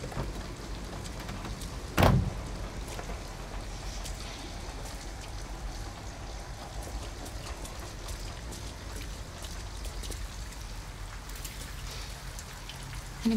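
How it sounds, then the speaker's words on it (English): Steady rain patters and hisses throughout a scene in the video game Detroit: Become Human, with one sharp knock or door-like thud early on and no talking. "At least we'd be out of the rain."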